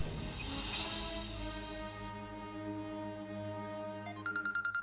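A mobile phone left behind at home rings in a TV drama scene, its short repeating electronic tone pulses coming in near the end over a sustained musical score.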